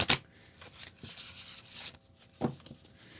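A small deck of handwritten note cards is shuffled in quick riffling bursts, with a sharp flurry at the start and another a moment later, close and fairly quiet.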